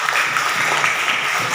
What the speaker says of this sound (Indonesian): Beri tepuk tangan dulu dong buat